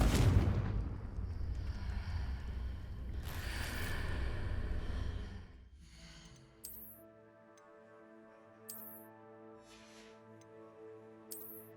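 A Confringo blast spell goes off in Hogwarts Legacy as a loud burst with a rumbling roar that fades over several seconds. It leaves a quieter musical game background with a few faint chimes.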